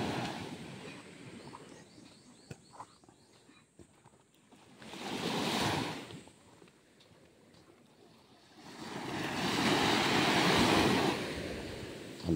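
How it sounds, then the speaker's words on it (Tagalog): Sea waves washing onto a warm beach shore in the Philippines, two distinct surges swelling and receding over a steady rushing background, moderately near with no talk. "ang dagat"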